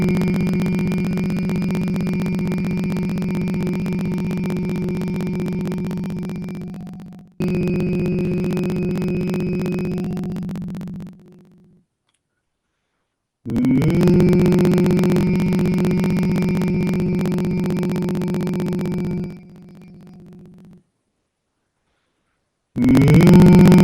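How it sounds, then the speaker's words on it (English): Sustained human humming during a breathing exercise, a steady low tone held for several seconds at a time in repeated long phrases, broken by short silent pauses for breath, close and fairly loud. "intensely without stopping, like as long as possible, just hum"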